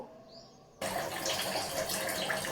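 Water poured into a pan on the stove for a sago and vermicelli payasam, a steady, close rushing pour that starts abruptly after a quiet moment and continues to the end.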